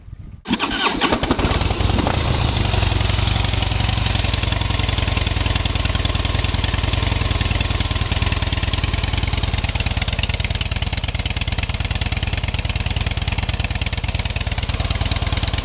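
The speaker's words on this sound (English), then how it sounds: "my 2010 Harley Davidson Heritage Softail with the stock mufflers." A 2010 Harley-Davidson Heritage Softail with stock mufflers starts up and settles into a loud, steady, loping idle, recorded up close with no talking.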